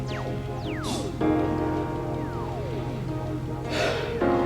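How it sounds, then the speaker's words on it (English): Heavy, fast breathing from someone who has just come back from the market, with two loud, close breath bursts standing out over a steady tonal background hum and a few sliding, whistle-like tones. "I'm breathing a bit fast because I just came in now."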